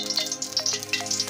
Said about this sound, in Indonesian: Langsung aja aku kasih minyak ya, buat numis Bunda,